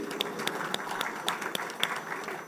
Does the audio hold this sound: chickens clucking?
no